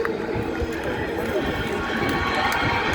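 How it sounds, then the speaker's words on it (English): Large speedway crowd at the Brickyard 400 chanting the name of winner Kyle Larson, a dense, continuous roar of many voices heard at a distance without a clear rhythm. "Crowd chanting Larson"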